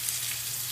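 Imitation crab meat sautéing in a pan over medium-high heat, a steady close sizzle and crackle of frying with no talk.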